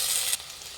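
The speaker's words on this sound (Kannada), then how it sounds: "ಟೊಮೆಟೊ ಹಾಕ್ತಾಯಿದ್ದೀನಿ. ಇದು ಟೊಮೆಟೊ ಫ್ರೈ ಮಾಡಿ." Chopped medium-size tomatoes sizzle loudly in hot oil as they hit the pan for rasam, with a bright hiss that drops sharply partway through and settles into a quieter, steady frying crackle.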